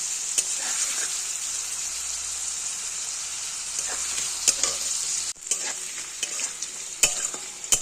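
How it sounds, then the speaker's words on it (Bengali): Carrot stir-fried in a pan for a home-style Kashmiri dal sizzles softly and steadily, with a spatula scraping and tapping the pan in irregular knocks. "গাজরটা ভাজা হয়ে আসছে"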